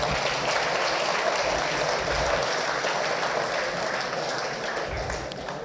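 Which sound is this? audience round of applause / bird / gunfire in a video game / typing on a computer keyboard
audience round of applause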